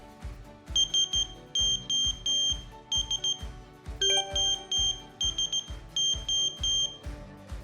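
Piezo buzzer from electronic gear chirping in quick bursts of short, shrill beeps grouped in irregular clusters, loud and near, with brief gaps between the groups and no talk.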